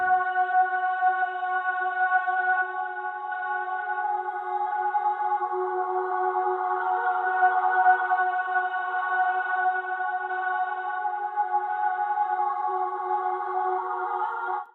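Sample phrase called Real One from the Blackout kit, used as an atmospheric layer in a beat: a steady sustained tonal pad, soft and even, with no percussion or voices over about fifteen seconds.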